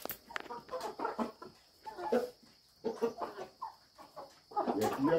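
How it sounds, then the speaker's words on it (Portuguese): Chickens on a rural Brazilian farm, including a bantam hen near a henhouse, cluck and call in repeated bursts close by, with some quieter gaps between calls and no clear talk over them. "As galinhas que vivem comigo."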